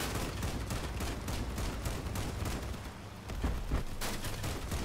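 Rapid bursts of autocannon fire in the video game Crossout, repeated sharp shots in a fast rhythmic stream with a brief pause before firing resumes, fairly loud and close.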